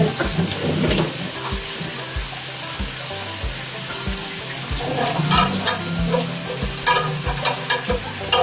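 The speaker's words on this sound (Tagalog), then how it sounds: "Haluin muna natin." Snails simmering in coconut milk are stirred in a pot, giving a steady bubbling sizzle with repeated scraping and clinking of the spoon, close and moderately loud, with no talking.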